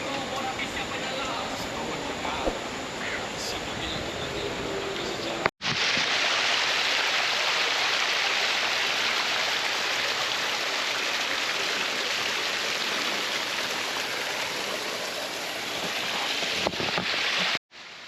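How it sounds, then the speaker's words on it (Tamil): Water trickles and runs through Gua Tempurung cave in Malaysia, a dense, constant rushing wash that stops briefly after a few seconds and returns louder, then cuts out again near the end. "மேலே தான் பாருங்கள் தண்ணி வந்து எப்படிலாம் ஒழுகுதுன்னு. இங்கேயுமே வந்து ஒரு சுனை மாதிரி ஓடுது."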